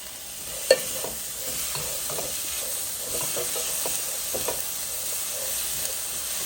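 Chopped tomatoes frying in a pan over a medium-high gas flame give a steady, close hiss and sizzle with faint stirring clicks and no talking.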